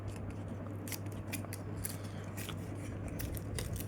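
Paper being folded into an origami jet plane makes quiet, crisp crinkling and creasing rustles in short irregular bursts, close by and with no talking.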